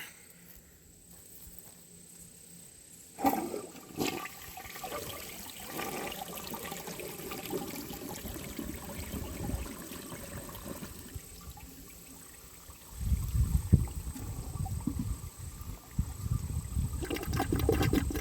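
A 1976 Eljer Emblem toilet flushes: a click of the handle, then rushing, gurgling water that swells, settles into a trickling refill, and surges again louder near the end, close and without talk.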